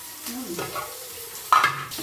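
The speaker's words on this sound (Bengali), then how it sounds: "এবার আমি ঢেলে ফোড়ন দেবো।" Hot tempering is poured into cooked golden moong dal with ash gourd and bitter gourd, giving a sharp, loud sizzle burst midway that quickly fades into soft bubbling, with gentle stirring scrapes before it.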